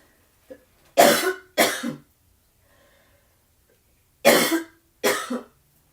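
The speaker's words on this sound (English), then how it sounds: "I'm just going to cough" Four loud, harsh coughs come in two pairs, separated by a quiet pause with soft breathing.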